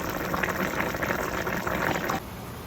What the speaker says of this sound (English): reduce the sauce a little bit more